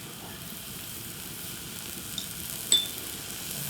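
Minced beef fries in sesame oil, making a quiet, steady close sizzle with a brief clink of a utensil near the end and no talking.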